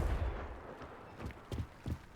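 Confringo fire spell blasts in Hogwarts Legacy, a few short booming impacts spaced about half a second apart after a low rumble, close and moderately loud.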